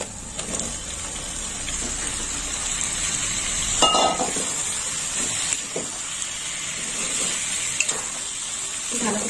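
Fried chicken pieces going into hot oil and masala for mocha chicken, a steady sizzle with scraping stirs and a louder splash of hissing partway through, close by, with brief faint voices in the background.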